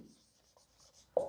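Faint scratching of writing on a board during an English lesson, a few short quiet strokes ending in a louder tap.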